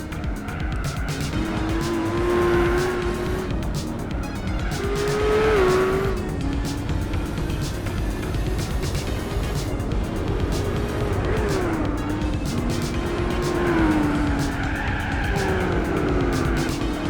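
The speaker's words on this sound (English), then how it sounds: "even in third gear, just lays patch" Tires of a Nissan Skyline ER34 race car squeal in Gran Turismo 4 while the engine revs hard, with long wavering screeches rising and falling through corners over a steady loud motor drone, no talking.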